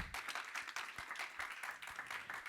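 A church congregation claps in praise during a Spanish-language sermon on Acts 1:8, quick rhythmic hand claps heard at moderate distance and fairly faint, without speech over them.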